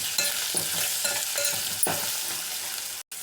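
Onions frying in a pan with ginger-garlic paste and a pinch of turmeric, a steady hiss of sizzling broken by scraping stirs, close and fairly loud.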